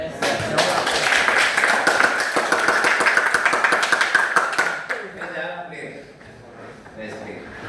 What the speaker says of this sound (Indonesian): Kasih aplaus untuk Doni